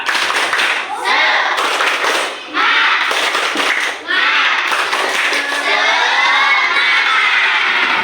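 Schoolchildren in an Indonesian classroom perform a loud rhythmic spirit clapping chant, shouting and clapping together in bursts with brief pauses between phrases.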